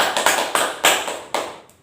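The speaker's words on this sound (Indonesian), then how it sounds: "Coba beri tepuk tangan" Students in a classroom clap their hands for a classmate, a handful of loud, uneven claps in quick succession that trail off after under two seconds.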